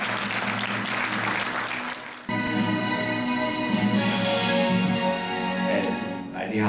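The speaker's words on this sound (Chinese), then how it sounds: "是不是再次以热烈的掌声来谢谢我们的师长" Warm audience applause at a Lingjiushan Tainan Puren Award ceremony, steady clapping that carries on beneath a sustained musical tone that enters partway through.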